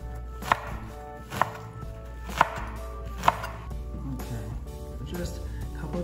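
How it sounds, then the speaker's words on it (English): A knife chops zucchini flowers on a cutting board: four crisp, evenly spaced chops up close, followed by softer handling noises, with a voice speaking faintly underneath. "we're gonna get this and we're gonna chop these up"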